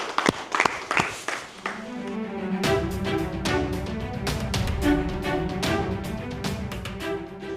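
A few sharp claps start things off, then a crowd breaks into steady, sustained applause with a faint musical tone underneath.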